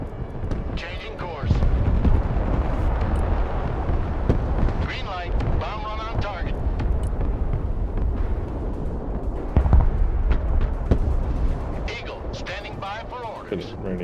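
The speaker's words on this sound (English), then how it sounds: "Bomb run on target." Bomb run explosions in the Broken Arrow military strategy game: repeated heavy blasts and rumbling artillery-like booms with aircraft roar, loud and sustained, with radio-style voices talking over the action.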